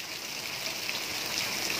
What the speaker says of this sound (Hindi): इतनी बुरी तरह बारिश हो रही है यहाँ पे।